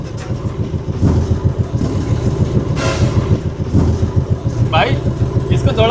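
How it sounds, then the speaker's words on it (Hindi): Car engine pulling away slowly in first gear, a steady pulsing rumble throughout with people talking over it and a brief sharper burst midway. "अबे अभी चलेगा, धीरे धीरे गियर डालेंगे पहला।"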